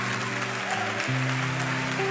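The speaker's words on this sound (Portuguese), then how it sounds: "Dê o melhor aplauso que você puder por essas vidas" A church congregation applauds steadily for a sustained stretch, the clapping blended with a held musical tone that shifts pitch underneath, no voices standing out.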